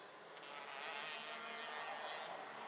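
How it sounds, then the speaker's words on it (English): A racing kart with a noisy exhaust drones around a karting circuit at Genk during a seniors heat. The engine sounds faint and distant, a steady buzzing whine that rises and falls slightly. "Yeah, there's definitely a noisy exhaust out there."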